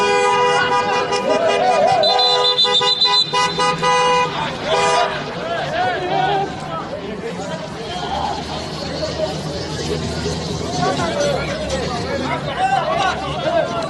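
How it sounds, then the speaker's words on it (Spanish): Car horn toots and engine noise as a car drives onto a football pitch mid-match in Saudi Arabia, with crowd chatter and babble throughout and a commentator talking over it. "están jugando y de pronto se mete a la cancha un carro"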